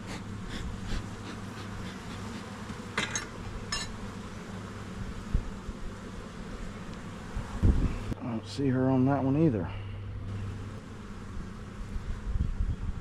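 Honeybees hum around an open hive during a nucleus colony install, a steady, close drone beneath someone talking, with a few sharper passes of individual bees near the microphone.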